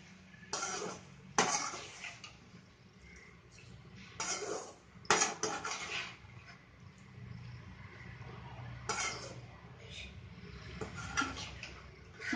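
Prawns being stirred in hot oil in a pan, with quiet oil crackle under intermittent metallic scrapes and clinks of a spoon against the pan, close and fairly soft.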